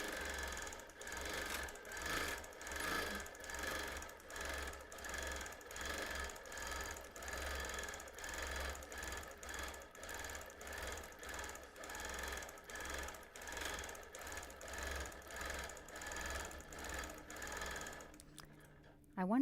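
A sewing machine quilts loose, cloudy free-motion stitching through fabric without batting, its steady motor whir rising and falling in repeated bursts and pauses over nearly twenty seconds, close and fairly quiet.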